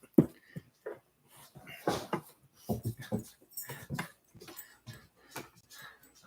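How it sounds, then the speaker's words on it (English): Puppies wrestling together, giving scattered short whimpers, yips and scuffling bursts at close range, irregular and fairly quiet with brief pauses between. "It's a puppy wrestling match."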